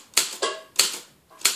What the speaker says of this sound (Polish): Normalnie maszyna pisze